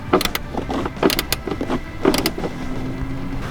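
Quick bursts of ratcheting clicks come from a wrench tightening a bolt in the passenger footwell of a Toyota Tacoma. The clicks fall in short, close, irregular strokes, and a faint steady hum runs underneath.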